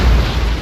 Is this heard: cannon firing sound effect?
yes